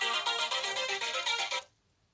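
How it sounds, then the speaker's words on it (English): A smartphone set off by the phone finder on a Casio Edifice EQB-1100 watch rings with a bright, repeating melodic ringtone for about a second and a half, then cuts off into near silence. "we should now expect the sound on the phone over there"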